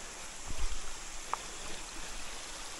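A mountain stream flows steadily as a broad, even wash of water noise, with a few faint low knocks near the start and one brief sharp tick partway through.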